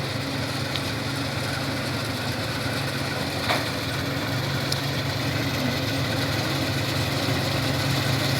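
New Holland combine harvester engine running steadily in a wheat field, with a constant mechanical drone and clatter at moderate distance, no talking.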